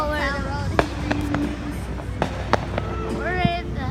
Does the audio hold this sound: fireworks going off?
yes